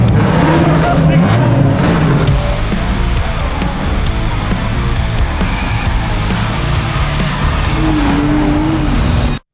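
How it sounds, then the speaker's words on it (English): Drift cars at the Ebisu Matsuri drift event, with loud, continuous engine roar and screeching tires close by and steady throughout, and voices mixed in underneath. "This is Ebisu Matsuri, the craziest drift event in the world"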